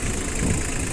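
A Japanese mini excavator with steel tracks, a blade and a boom runs close by with a loud, steady, rumbling engine drone and no pauses. No voices are heard.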